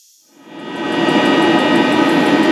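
A 16 kW diesel water heater's blower motors give a steady broadband whooshing roar. It starts from near silence, swells over about a second and then holds loud and even, with no talk.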